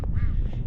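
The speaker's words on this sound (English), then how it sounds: "ducks." Ducks on a snowy winter farm in Montana give a loud, close burst of quacking, one brief raspy call alone without talk.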